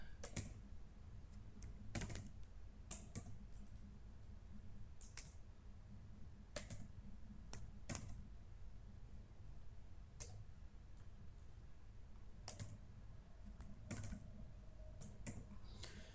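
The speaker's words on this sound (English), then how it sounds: "Just click on use the following IP address and type your IP address which you require." Faint, sparse clicks of a computer keyboard as an IP address is typed, scattered single keystrokes with quiet gaps between them in an otherwise still room.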